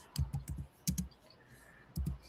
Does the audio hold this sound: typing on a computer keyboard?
yes